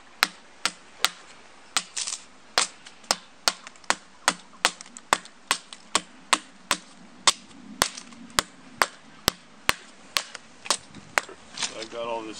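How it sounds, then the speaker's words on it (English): A knife shaves cedar wood into tinder in steady, sharp strokes, roughly two or three per second, each a crisp scrape repeated evenly for several seconds. "So I've got all this tinder that I just shaved off"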